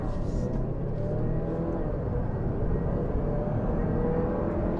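A 2022 Jeep Grand Cherokee Overland 4xe plug-in hybrid accelerates hard, mostly on electric power. A steady, loud cabin and road roar holds for about five seconds with no talking.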